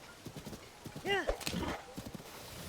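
A horse in Zelda: Tears of the Kingdom clip-clops with steady hoofbeats and lets out a brief whinny, with someone talking over the game sounds.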